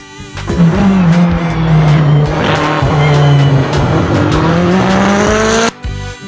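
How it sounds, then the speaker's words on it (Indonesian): Toy racing car sound effect, a loud, close synthetic engine whine that holds and slowly climbs in pitch with tire-squeal texture for about five seconds, then cuts off abruptly. "Hey, racing car."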